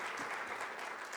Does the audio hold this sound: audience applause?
yes